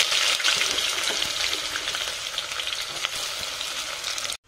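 Onions frying in oil for chicken biryani make a steady, close, loud sizzle with crackling that runs unbroken and cuts off just before the end.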